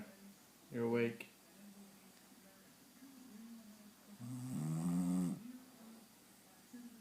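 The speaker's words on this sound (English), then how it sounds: "Why are you snoring? You're awake." A bulldog snores in two separate wheezing, rumbling breaths, nasal and close, with quiet stretches between them in a hushed room.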